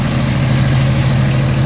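Diesel engine with a reduction gearbox powers a Kappa 3000D mortar pump, its mixer turning, giving a loud, steady low idling drone that holds evenly throughout with no talking.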